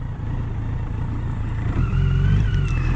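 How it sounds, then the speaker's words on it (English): A BMW K100 motorcycle engine runs with a low, steady rumble that swells slightly as it revs, heard close and continuous. "the engine sounds sweet"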